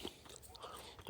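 A raw round edible bulb from a home garden is bitten into up close, one crisp crunch at the start and another near the end, with quiet chewing between and no talking.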